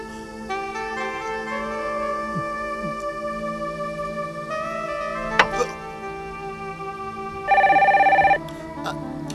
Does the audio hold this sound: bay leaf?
no